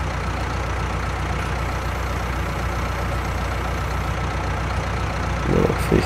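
A tractor engine idles in Farming Simulator 20, a steady low rumble that holds evenly throughout with no voices over it, and there is a slight bump in intensity near the end.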